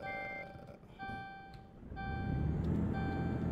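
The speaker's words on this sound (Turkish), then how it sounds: "Motorumuzu çalıştıralım, parklarımızı yakalım." A truck in Euro Truck Simulator 2 sounds a few dashboard warning beeps, then its engine starts and settles into a steady, rumbling idle that grows louder and stays running.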